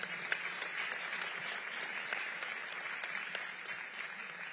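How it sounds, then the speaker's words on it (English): An audience applauds students with a steady, even round of clapping at moderate distance, filling the whole stretch without voices on top. "Give the students a round of applause."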